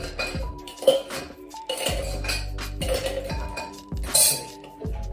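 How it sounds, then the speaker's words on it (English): Ice cubes are dropped into a large metal cocktail shaker tin, several rattling, clinking pours in bursts with hard cold knocks and jangles against the tin, close and loud, with short pauses between scoops. "Gonna fill our large tin full of ice cubes."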